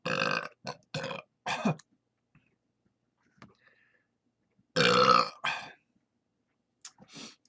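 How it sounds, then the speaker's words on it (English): Loud, close burps from someone drinking a 32 oz Olde English malt liquor, coming in a quick cluster of three, then a long hearty belch after a quiet pause and a shorter one at the end. "I know you guys like burps."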